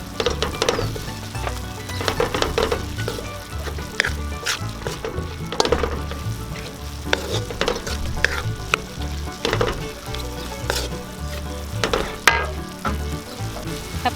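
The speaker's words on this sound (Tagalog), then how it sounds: "Haluin lang po natin." Sliced eggplant (talong) sizzles loudly in hot oil in a pan while being stirred, a constant crackling fry broken by repeated scraping and clinking strokes of the utensil.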